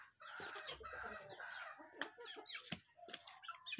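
A flock of chickens being fed at dawn cluck and chatter busily, with sharp calls and clicks standing out over a faint outdoor background.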